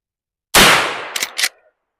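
Marlin 1894 lever-action rifle firing at a cardboard target, a single sharp, loud close shot with a short decaying tail, followed by two quick metallic clacks of the lever action.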